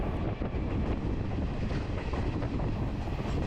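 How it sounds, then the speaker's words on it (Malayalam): A passenger train from Colombo climbs uphill toward Kandy, Sri Lanka, with a loud, continuous rumble and rattle of wheels and carriages heard close from inside, no voices present. "നമ്മുടെ ട്രെയിൻ അത്യാവശ്യം കയറ്റം കയറിയാണ് ഇപ്പോൾ പോകുന്നത്"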